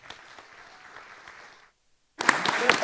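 Audience applause at a Wednesday night music event in Cavan Town Hall, dense clapping that stops for a moment of silence and then returns louder and closer.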